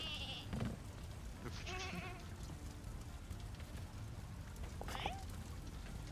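Sheep in the video game Lumberhill bleat in several short cries scattered through the clip, heard over a busy game soundscape with people talking.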